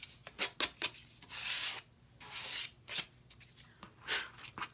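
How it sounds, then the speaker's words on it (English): Wood is sanded by hand with a sandpaper sponge, a series of close, dry scratchy rubbing strokes in uneven rhythm, some quick and short, others longer sweeps, with no talking. "it will just file it right off. After all, that's all that is sandpaper. This is kind of like a little sponge."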